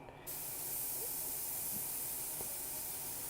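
An airbrush sprays paint onto miniature tabletop terrain, giving a steady, close, continuous hiss of compressed air that starts abruptly and holds at an even level.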